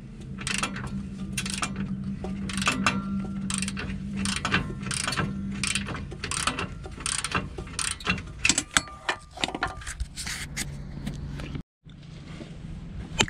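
A socket ratchet loosening bolts on exhaust test pipes of a Q50, G37 or 370Z clicks in rapid bursts of ratcheting, close and fairly loud, with pauses and clanks between strokes and a brief cut near the end.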